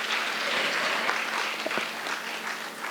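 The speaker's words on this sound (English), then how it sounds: "he deserves a huge round of applause for being deadly honest" An audience at a panel discussion on generational shifts in education claps in a sustained, even round of applause. Dense and steady throughout, with no talk over it.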